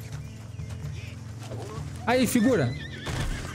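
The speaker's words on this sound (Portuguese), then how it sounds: "Olha esse cavalo aqui, galera." Horse neighing loudly up close in the Western video game Red Dead Online, a rising-and-falling whinny over a steady bed of game music and hoofbeats, with someone talking briefly.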